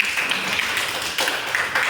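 A classroom of students applauds on cue from the teacher, giving a short burst of brisk, slightly scattered clapping at moderate loudness that carries on steadily for a couple of seconds.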